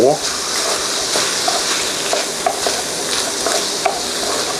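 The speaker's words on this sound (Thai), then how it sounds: "ผัดหอมแดงนะครับ ให้เข้ากับหมู" Steady sizzle of shallots and minced pork stir-frying in a hot pan, with occasional scrapes and knocks of a spatula against the pan.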